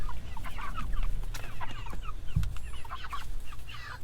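Meat chickens in their seventh week cluck and chatter continuously at close range, several birds overlapping in busy, moderately loud calls, with a brief low thump midway.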